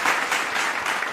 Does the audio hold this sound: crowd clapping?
yes